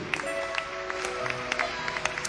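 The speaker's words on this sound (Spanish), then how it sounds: "Damos un aplauso al Rey." A church congregation claps together in a lively, sustained round of applause that carries steadily across the room, with scattered sharper claps standing out from the crowd.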